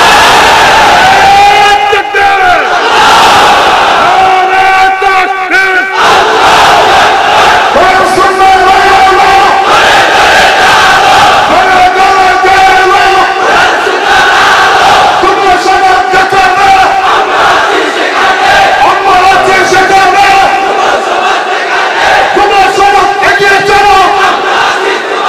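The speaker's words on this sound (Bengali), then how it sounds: "তাহলে জিহ্বা মহব্বতে জিহ্বা খুলে কণ্ঠ আওয়াজ করে একটা তাকবীর দাও" A large crowd at an outdoor Islamic sermon shouting takbir in unison, loud repeated rhythmic chanting swells that fill the space continuously.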